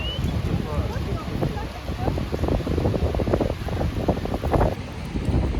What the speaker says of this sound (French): Nous sommes à la plage, il y a du vent.